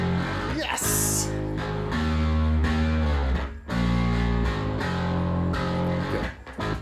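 Heavily distorted bass from the CLA bass plugin roars with thick, saturated low notes held and shifted in pitch, loud and up front, while someone talks briefly over it.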